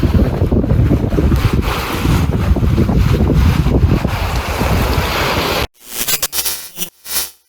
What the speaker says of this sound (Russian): А за нами шумит река.